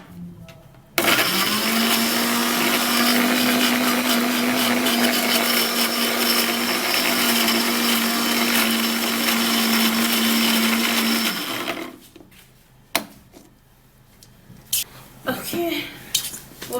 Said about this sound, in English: We're going to blend it.